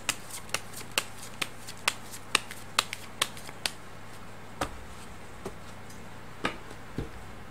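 Tarot cards being shuffled for a fortune reading: a quick series of crisp, close riffle and snap sounds at a steady rhythm, thinning out toward the end, with no talking.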